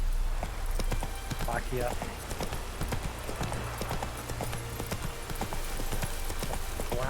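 Roach, a horse in The Witcher 3, trots with steady clip-clopping hooves close by over game ambience and low music, while someone speaks briefly.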